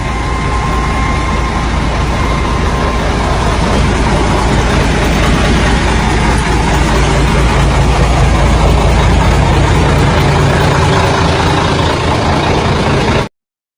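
Heavy truck engine running steadily and loud as two rippers work to pull the truck back out after it ran off a street, a continuous low rumble with no talk.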